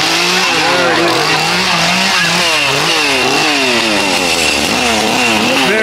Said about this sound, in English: Waiting to see if maybe he'll fire up the saw.